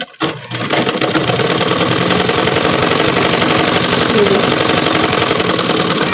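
A sewing machine stitching fabric runs fast and loud after a brief start, its rapid mechanical whirring and needle rattle holding steady and continuous up close for the rest of the stretch.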